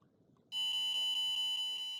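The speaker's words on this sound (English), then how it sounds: "it says tilt detected and the buzzer goes off" A small buzzer on a maker kit board, set off by a tilt sensor, starts abruptly after a quiet moment and sounds one continuous steady electronic tone until the end.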